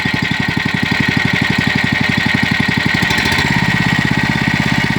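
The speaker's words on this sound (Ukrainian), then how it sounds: "завів и сейчас даем газку" A small mini tractor engine, running after its hydraulics were rebuilt, chugs at a steady loud idle with rapid even pulses, then revs higher partway through into a smoother, faster drone.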